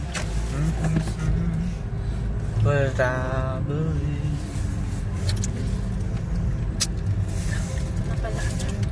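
Traffic on Sungay Road toward Tagaytay, steady road rumble from a passing bus and cars, with a horn-like tonal burst near three seconds and people talking throughout.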